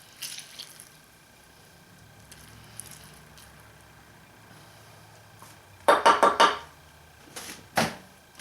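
A quart of water is poured into a cooking pot for dandelion syrup, two short splashing gushes near the end following a quiet stretch, close by and fairly loud.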